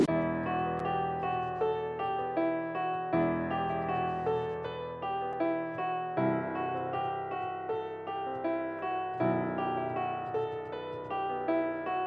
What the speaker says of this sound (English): First thing I got was this Yamaha grand piano